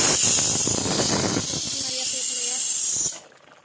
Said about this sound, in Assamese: পূৰা উতলি আছে।